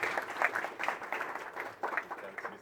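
A lecture audience applauds steadily, a dense patter of many hands clapping at moderate loudness for a couple of seconds, with a faint voice underneath.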